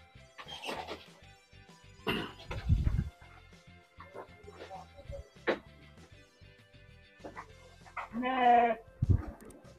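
Texel sheep on a farm, a breeding group of five ewes and one ram, bleat in several separate calls, some close and loud and others fainter, with quiet gaps and the odd bump of movement between them.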